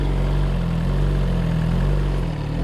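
A motorcycle engine idles steadily and close, with a loud, even low throb and a constant rumbling drone that may come from an exhaust leak; the engine runs alone with no other sounds.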